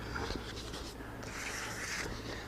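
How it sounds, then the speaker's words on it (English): A random orbit sander with fine sandpaper works over a finish, giving a steady, even whirring scrub that stays constant and fairly quiet throughout. "And I can take my sander and sand it, random orbit."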